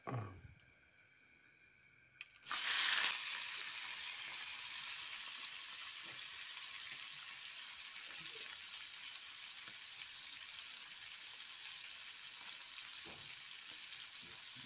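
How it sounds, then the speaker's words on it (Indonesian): Cleaned young freshwater prawns (anak undang) drop into hot oil in a pan and erupt into a loud, steady sizzle that continues evenly, with occasional faint clinks of stirring. A quiet stretch comes before the sizzle begins. "Goreng anak undang dulu."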